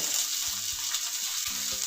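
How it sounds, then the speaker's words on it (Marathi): Jowar flour vadis tossed into a hot tempering of oil, mustard seeds, cumin, asafoetida and curry leaves, making a continuous soft sizzle with a few dull knocks of a spoon against the pan. "पॅनमध्ये एक चमचा तेल घालून घेते अर्धा चमचा मोहरी अर्धा चमचा जिरे किंचित हिंग बारीक केलेला कढीपत्ता त्यामध्ये हे वड्या घालून घ्यायच्या"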